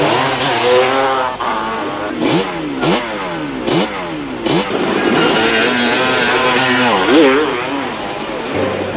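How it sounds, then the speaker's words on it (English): Race cars roaring through the 1996 Toyota 1000 off-road race, engines revving and sweeping past loudly in repeated rising and falling passes, with continuous motor noise throughout. "the leading cars were making steady progress through the long riverbed section"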